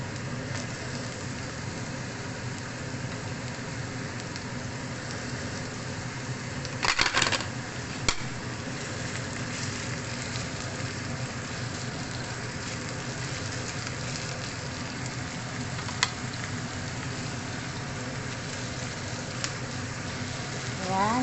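Onion and garlic fry in a pan for pork giniling, giving a continuous, even sizzle with a brief clatter partway through.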